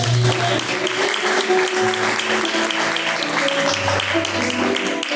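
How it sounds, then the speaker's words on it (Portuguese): Congregation applauding during a lively church service, loud continuous clapping layered over sustained music tones and background voices throughout. "Palmas que louvam o nome do Senhor"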